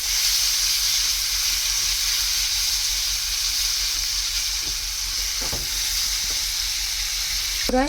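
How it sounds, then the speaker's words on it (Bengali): Tomato puree sizzles steadily in hot oil in a pan for a shahi paneer made without onion or garlic, a loud continuous frying hiss with a few soft scraping stirs near the end and no talk. "টমেটো পিউরিটা দিয়ে দেবো টমেটো বাটাটা টমেটো বাটাটা দিয়ে দিয়ে নাড়বো"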